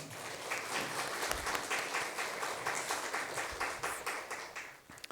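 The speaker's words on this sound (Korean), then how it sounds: "우리 찬양대가 더 힘을 내서 하나님을 찬양하라고 격려의 박수로 한번 하지" A church congregation applauds steadily for several seconds during a Sunday service, a dense, even wash of clapping that holds its level before thinning slightly at the end.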